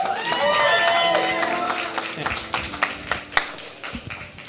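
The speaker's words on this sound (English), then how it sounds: "Another big round of applause for Maya, for Maya's Hope, for the host committee" A charity gala crowd at the Maya's Hope Lotus Ball applauds: scattered, then sharper clapping rises under a voice and tonal background sound, with sporadic loud claps toward the end.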